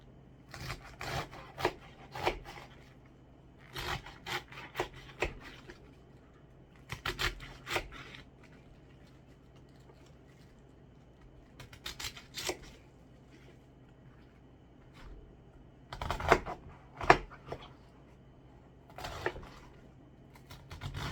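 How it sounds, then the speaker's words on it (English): A knife chops loose cabbage on a board in irregular bursts of crisp, close strokes separated by short pauses, fairly quiet overall and free of speech. "And then we'll cut this up. Very loose cabbage."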